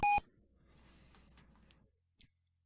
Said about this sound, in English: And we have some loud beeps.